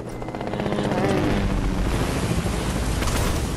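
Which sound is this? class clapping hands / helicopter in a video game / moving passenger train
helicopter in a video game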